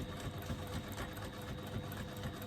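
Sewing machine stitching the side seam of a bag at a 3/8 inch seam allowance, a fast steady mechanical whir and chatter running continuously at low volume, with no talk.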